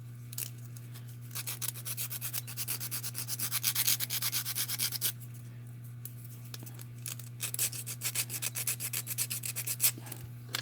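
Sanding the trimmed edges of a scale model windshield, heard as rhythmic close rubbing strokes in bursts over a low steady hum, with no one speaking.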